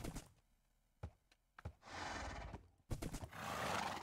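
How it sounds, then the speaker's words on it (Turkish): A horse in the Minecraft video game neighs and whinnies several times in short bursts, separated by near-silent gaps. Snorts and clip-clop hoof knocks come between the calls. It sounds close and fairly loud, with no talking. "Dur ben şu atı şuraya bir bağlayayım da."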